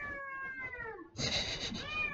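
A cat meows close by, a long drawn-out wavering cry followed by a harsher, louder yowl, with no voices.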